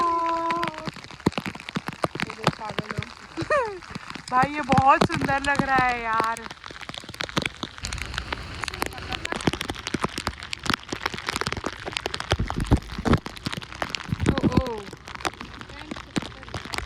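A steady patter of rain falling on surfaces in Panjim, Goa, with people talking over it throughout.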